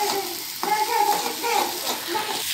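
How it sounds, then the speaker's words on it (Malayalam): Egg being stir-fried on a high flame, a steady bright sizzle with scraping stirs close by, running continuously through the short stretch. "ഈ ഒന്ന് ഹൈ ഫ്ലെയിമിൽ വെച്ചിട്ട് അതൊന്ന് മിക്സ് ചെയ്തെടുക്കുക"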